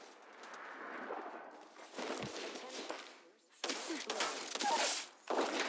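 Video game gunfire and a target's shield cracking, with bursts of shots and shattering impacts in several loud clusters, under voices talking in-game.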